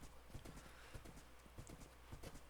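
Horses clip-clopping in a video game, a steady run of hoof clops with a few louder, closer hits over a constant low hum.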